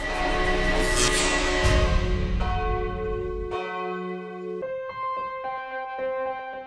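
A church bell in a tower in Oriental Mindoro rings loudly with several successive strikes. Their long metallic tones overlap and slowly decay, with no voices.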